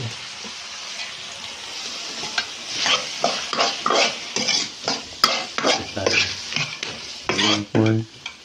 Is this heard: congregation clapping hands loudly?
no